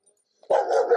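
A dog in the Philippines gives a single sharp, loud bark close by, followed by a short sustained growl-like tail, after near silence.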